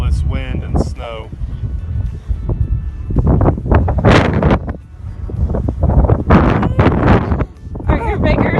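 Gusty outdoor wind buffets the microphone in rough, loud surges during a snowy XIRO Xplorer drone flight, while people talk over it.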